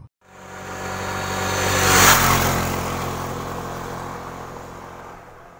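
Adventure motorcycles, a Honda Africa Twin, two KLR 650s and a Himalayan 411, pulling away together, with engines swelling to a loud peak as one passes close and then easing into a steady mid-pitched drone.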